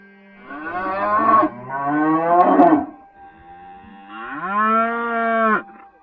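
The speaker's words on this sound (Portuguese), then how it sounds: "eu ouvi todas as vacas começarem a mugir ao mesmo tempo" Several cows moo in long, deep, overlapping calls, loud and close, three drawn-out bellows with a short gap before the last.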